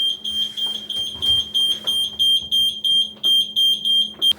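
A loud, shrill electronic beeping from a new boat engine's panel as its circuit is energized, in a fast, steady rhythm, pulsing continuously with no voices.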